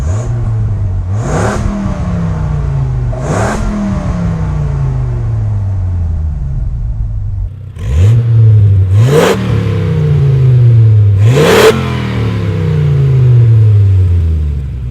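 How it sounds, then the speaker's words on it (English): A Dodge Viper RT/10 revs hard and loud through its stock side exhaust several times in repeated cycles, each rise climbing in pitch with a sharp snarl before falling back to idle. "this still has the good old side exhaust, which sounds pretty good for being a stock exhaust"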